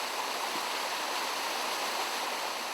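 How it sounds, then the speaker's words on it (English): A series of waterfalls tumbling down a valley near Cray in Upper Wharfedale, Yorkshire Dales, a dense continuous roar of rushing water, loud and unbroken throughout. "A series of waterfalls tumble down the valley from Cray to feed the wharf."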